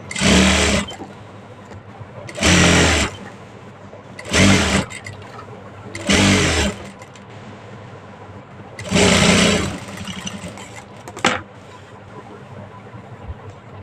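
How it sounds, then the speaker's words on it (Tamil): A sewing machine hems a blouse sleeve in loud, whirring bursts of stitching, five long runs and a short one, separated by quieter pauses. "இப்போ அது மேலே ஒரு படிமான தையல் போட்டுக்கலாம்."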